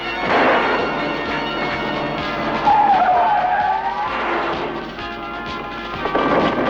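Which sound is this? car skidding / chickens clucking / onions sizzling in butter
car skidding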